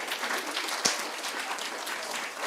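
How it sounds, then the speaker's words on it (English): Audience applause at a book prize ceremony, a steady wash of clapping from a seated crowd with one sharper knock partway through. "that's a round of applause"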